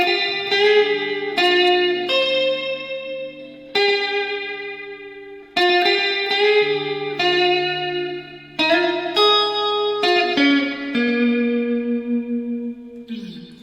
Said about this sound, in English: I need to actually put some delay and reverb.